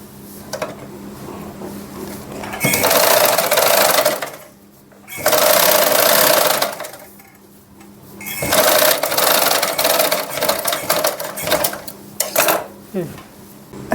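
A sewing machine runs in three loud bursts of stitching, joining the sleeves of a two-layer frock, with short pauses and softer handling sounds between runs.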